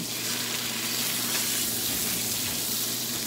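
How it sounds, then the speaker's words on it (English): Sous vide steaks searing in a very hot pan produce a loud, even hiss of spitting fat with a faint low hum underneath. The sound holds steady from start to finish and no one speaks. "Let's throw them in the pan."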